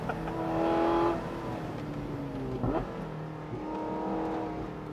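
A Porsche 918 Spyder hypercar with 875 brake horsepower accelerates hard on a mountain pass. The engine note is loud and continuous, rising in pitch through the gears with brief drops at the shifts.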